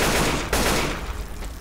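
Rapid gunfire from a Left 4 Dead 2 firefight, a dense burst of loud shots that cuts out briefly, then resumes and tails off.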